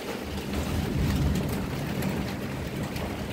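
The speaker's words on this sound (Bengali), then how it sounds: "এই দেখো কত বৃষ্টি পড়তে লেগেছে এবার" Heavy rain pours steadily with a dense, even hiss and soft low rumble, continuous and close, with no voices over it.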